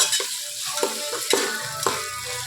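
Onions fry in a pan with a steady, close sizzle, while a utensil stirs them in a series of distinct scraping strokes spaced roughly half a second apart.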